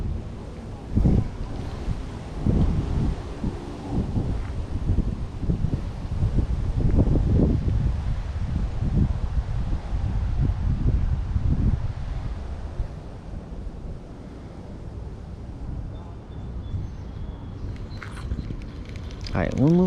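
Steady wind gusts roar over the microphone outdoors by the water while fishing for catfish, a continuous buffeting rush throughout with brief bursts of voices.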